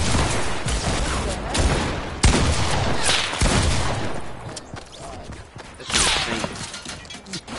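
Video game gunfire in rapid bursts and repeated loud shots, close and sharp, with brief voices between them.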